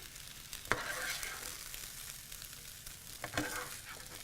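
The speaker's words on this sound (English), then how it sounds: "we're going to go ahead and just scramble our egg in here" Egg scrambling in a hot pan for fried rice, with a steady soft sizzle and frying hiss plus two sharp stirring scrapes, close and fairly quiet.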